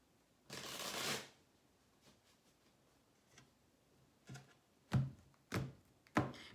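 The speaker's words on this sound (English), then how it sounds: "One more quick shuffle." Tarot cards are shuffled close by in a quiet room, one long riffling burst followed by several soft, separate taps and thunks as the deck is handled.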